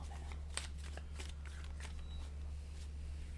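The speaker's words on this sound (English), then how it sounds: "I'm just going to shuffle these cards a little" Playing cards being shuffled by hand, a series of soft riffling flutters and light slaps close by over a constant low electrical hum.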